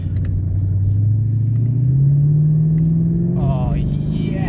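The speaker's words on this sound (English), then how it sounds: "Oh yes, a V8. It absolutely sounds glorious." A Mercedes CLK500 W209 with the M113 V8, decats and an X pipe, idling with a deep burbling rumble that swells as the revs climb slowly, then a sharper rasp near the end.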